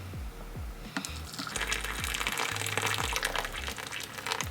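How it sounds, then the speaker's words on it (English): Hot water is poured into a cup, a steady close rushing splash lasting several seconds with faint clicks and taps mixed in, no voices. "I'm gonna pour the hot water in the cup."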